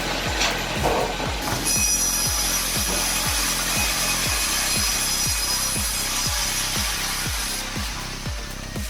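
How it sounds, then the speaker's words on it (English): A Brenta chainsaw rated at 135 horsepower, used for heavy logging, cuts steadily through wood with a loud, continuous whine. Repeating low thumps pulse about twice per second under the harsh sawing for the whole stretch. "At Lumberjack, the Brenta saw delivers up to 135 horsepower for heavy cutting."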